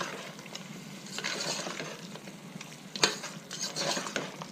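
Mutton biryani masala with curd cooks in a pot, sizzling softly while a spoon stirs and scrapes, with a sharp clink of metal near the middle and no voices.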